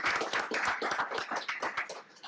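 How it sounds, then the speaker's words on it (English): A small group of attendees at a board of commissioners' meeting clapping briefly, distinct close handclaps in an uneven rhythm that thin out after a couple of seconds. "Do we have to give her applause too?"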